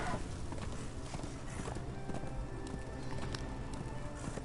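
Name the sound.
horse galloping in a video game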